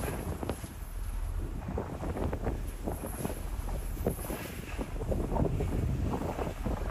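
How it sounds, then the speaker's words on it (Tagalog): Strong wind buffets a fishing boat out on the Pacific Ocean, a steady loud rush of gusts and microphone buffeting over churning waves and water slapping the hull, continuous throughout with no voices. "Malakas ang hangin, malakas ang alon."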